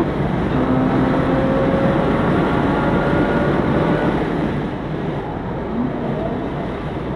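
A Lotus Emira at speed on a race track coming onto the main straight, its engine a loud, steady roar mixed with heavy wind rush and a faint rising tone, sustained throughout.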